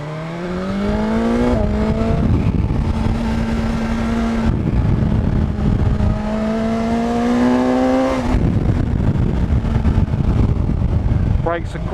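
A car engine revs and drops through gears while being driven hard through bends, the pitch climbing and falling in long sweeps with loud road and wind roar throughout and someone talking over it.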